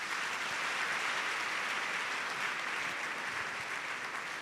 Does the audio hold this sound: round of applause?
yes